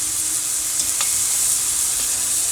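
Catfish pieces pan frying in oil, a steady, close, bright sizzle that continues unbroken with no one talking.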